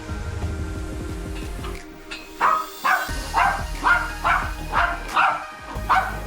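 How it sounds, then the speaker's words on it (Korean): An excited indoor dog barks in a quick series of about seven sharp barks, close and loud, following some low shuffling and movement noise. "방문했던 손님이 나가려는 행동만 보여도 똑같이 흥분하고 짖었어요"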